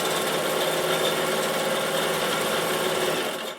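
A Bernina 740 sewing machine runs continuously, a loud, close, even mechanical hum and rapid needle chatter with a steady rhythm, tapering off at the very end with no talking.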